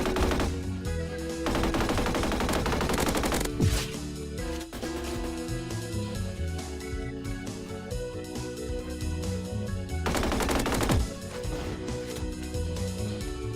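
Rapid automatic gunfire in a shooting video game crackles in loud, close bursts over steady music-like game tones, with sharp single shots scattered between the longer volleys.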